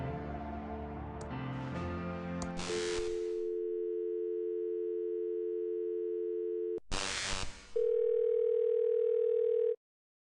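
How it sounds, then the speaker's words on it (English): In the video game Thimbleweed Park, a telephone receiver is picked up with clicks and handling noise, then a steady dial tone holds for several seconds, is cut by a click, and a second steady tone follows before stopping abruptly. "It's a phone."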